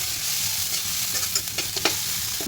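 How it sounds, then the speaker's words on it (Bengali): Onion and garlic frying in mustard oil, a close, steady sizzle with several crisp stirring clatters toward the end and no voices. "এখন এখানে পেঁয়াজ আর রসুন দিলাম,"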